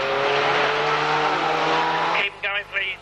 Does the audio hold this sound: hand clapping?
no